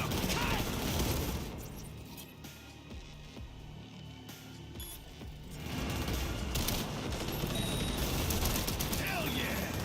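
Gunfire in Cyberpunk 2077, rapid bursts of shots with mechanical clatter, loud at the start and end with a quieter stretch between, and voices talking over the fight.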